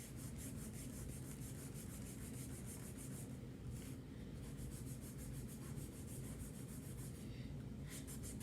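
Something is rubbed back and forth across a handmade Father's Day card in quick, soft, papery strokes, repeating steadily with short pauses, close and quiet.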